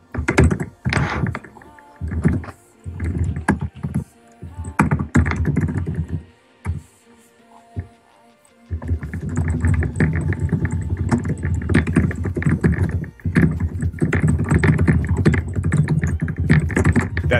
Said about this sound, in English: That typing is ridiculous.